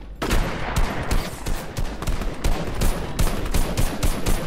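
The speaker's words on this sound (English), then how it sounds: "I'm going to snipe him." Rapid bursts of sniper rifle fire in a Fortnite match, loud and close, with repeated sharp cracks in quick succession and no pauses long enough for quiet.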